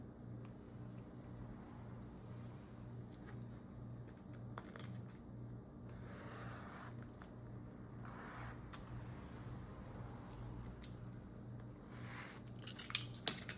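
Scissors cutting paper for a Hobonichi Cousin planner, several faint snips and rustles scattered over a low steady background hum, ending with a few sharper clicks.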